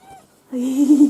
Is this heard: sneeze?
no